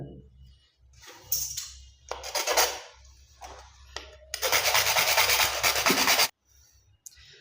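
A bottle trap extension pipe is cut for sink plumbing, giving rough rasping, sawing strokes in short bursts and then one long sustained stretch, loud and close, with no talking.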